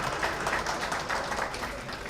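Audience clapping fills a lecture hall after two presenters finish a talk on educational quality, a dense, uneven patter of many hands at steady volume with no speech on top.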